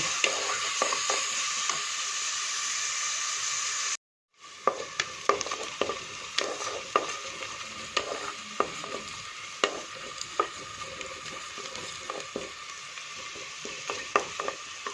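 Onions frying with salt in a pan for a chicken kurma, giving a steady hiss of sizzling with repeated scraping and stirring clicks, broken by a brief silence partway through.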